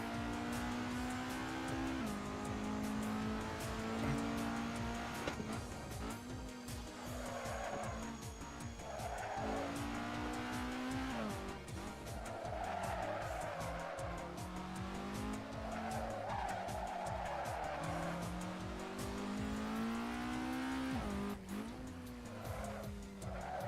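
A race car in the Assetto Corsa racing game squeals its tyres repeatedly through corners, the engine droning and pitching up and down continuously for the whole stretch.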